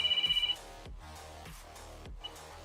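Muffled mobile ringtone from a phone tucked in a bag, a short burst of repeated electronic pulses at the start that stops suddenly, followed by low thumping room noise.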